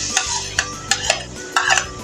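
Chopped onion roasting in hot ghee in a pan, with quick scraping strokes of a spoon stirring it over a soft sizzle, about six sharp scrapes in two seconds.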